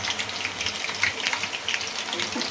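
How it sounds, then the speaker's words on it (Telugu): Chilli bajji deep frying in hot oil, a steady, dense crackling sizzle that stays continuous throughout with no voices over it. "ఈ విధంగా డీప్ ఫ్రై చేసుకుంటున్నాను."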